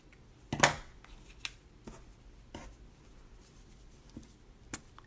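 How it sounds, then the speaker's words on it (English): Faint, sparse snips of scissors trimming ribbon ends on a craft note card, a few sharp cuts with quiet handling in between. "Trim those ends again."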